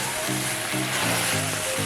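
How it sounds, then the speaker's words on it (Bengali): Meat being fried and stirred down in a pan for biryani, a loud steady sizzle filling the clip with a constant bright hiss and a low hum underneath. "এবার আমি মাংসটাকে ভালো করে কষিয়ে নেব।"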